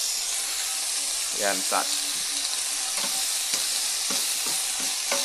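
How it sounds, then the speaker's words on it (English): Vegetables sizzle steadily in a hot pan while being stirred until soft and translucent, a constant loud frying hiss with occasional scraping, and a person speaks briefly over it. "So we're going to cook these things up until they go nice and soft."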